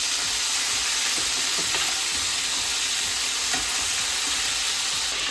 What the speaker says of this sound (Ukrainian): от як м'ясо так шкварчить